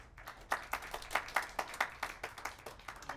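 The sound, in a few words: audience applause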